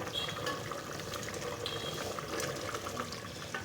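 Kachnar gosht, orchid tree buds cooked with meat, bubbling and sizzling in a pot over the heat, a steady close simmer with no voices.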